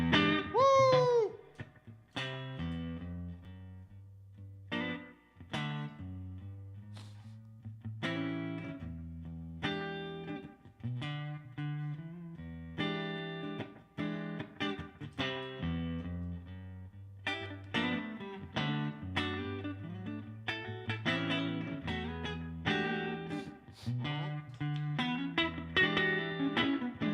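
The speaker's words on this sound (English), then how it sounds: "Nice squishy neck pickup." An electric guitar played through its neck pickup sounds warm and rounded at a live show in the Orange Room, with melodic lines and bass notes ringing steadily for nearly half a minute and no talking.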